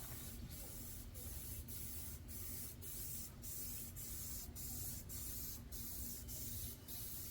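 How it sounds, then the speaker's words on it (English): A spray paint can lays a camo coat onto a rifle handguard in a series of short, regular hissing bursts, each separated by a brief pause, heard close but at a low level. "go ahead and spray a good coat on our handguard."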